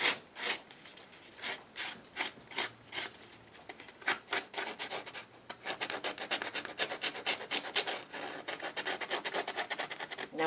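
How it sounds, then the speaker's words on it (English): Sandpaper rubbing back and forth against the raw edge of a pocket on a face piece, a close, soft rasping in steady strokes that grows quicker and denser toward the end. "I'm going to bring in a little bit of sandpaper and just rough that edge up a little bit."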